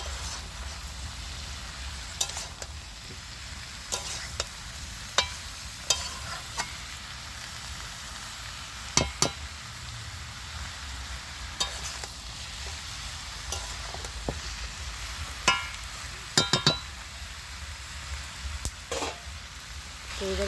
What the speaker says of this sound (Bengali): কাসুরি মেথি এটা দিয়ে আমি আবার একটু নাড়াচাড়া করে নিচ্ছি।